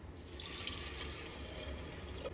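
Two and a half cups of water pour into a pressure cooker pot of soaked mixed lentils, a soft steady stream of liquid heard close and fairly quiet, with no voices.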